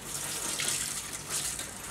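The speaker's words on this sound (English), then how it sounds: "Now just turn on the water." A kitchen tap runs in a steady, soft hiss of flowing water, used to rinse a Healthstart compact juicer's parts; faint and continuous, with no talking.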